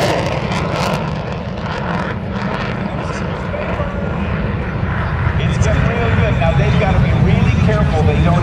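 An F/A-18F Super Hornet roars past at an airshow, a loud broad rumble with a rising whine that builds and swells toward the end, with voices talking under the noise.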